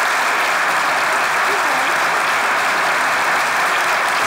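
Studio audience applause from a Turkish TV show, a dense steady burst of clapping, loud and close, filling the whole moment with no break.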